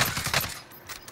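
Call of Duty Warzone gunfire: a quick, close burst of rapid shots crackling for about half a second, then a quieter tail with a faint trailing report.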